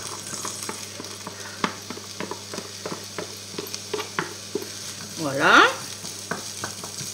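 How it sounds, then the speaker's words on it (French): Onions and garlic fry in olive oil in a pan, with a soft continuous sizzle and frequent light utensil clicks as they are stirred; a voice briefly speaks partway through. "Je remets un tout petit peu de l'huile d'olive pour faire cuire mes oignons et mon ail."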